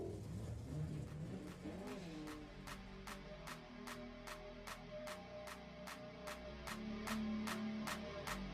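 A Mustang drag car at a doorslammer drag racing event revving its engine at high RPM, heard steady and somewhat distant as a sustained whirring roar with rhythmic pulses.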